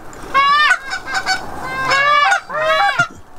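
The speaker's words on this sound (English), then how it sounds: "We don't know how many, but there's geese." Wild geese honk loudly overhead in an Iowa hunting field, several overlapping calls in two or three bursts with short pauses between them, close and clear.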